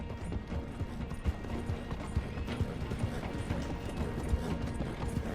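A horse gallops in Red Dead Redemption 2, rapid rhythmic hoofbeats beating steadily and fairly close over a dense background of game ambience.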